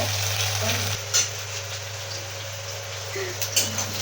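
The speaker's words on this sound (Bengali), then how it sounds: "পেঁয়াজগুলো লাল লাল করে ভেজে নিচ্ছি" Onions fry in a pan being browned for a goat meat curry, a steady close sizzle with occasional stirring scrapes and a constant low hum underneath.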